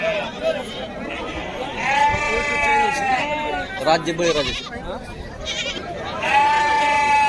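Several sheep bleat in wavering, drawn-out calls over a busy crowd murmur at a sheep market in Kashti, India, with someone speaking briefly among the animals.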